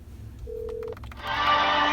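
A telephone call being dialed: a single short electronic tone, a few faint clicks, then a ringback or connecting sound, all fairly quiet in a quiet room.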